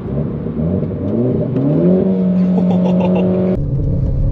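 Renault Clio 4 RS Trophy with a sport exhaust, heard from the cabin while driving as the engine climbs through the revs with a rising whine, then shifts and drops abruptly before pulling again.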